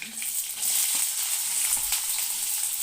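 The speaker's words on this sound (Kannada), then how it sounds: "ಸಾಸಿವೆ ಸಿಡಿತಾ ಇದೆ." Mustard seeds spluttering in hot oil for a lentil and horse gram bassaru tempering, a steady close crackling sizzle with scattered faint pops, no voices.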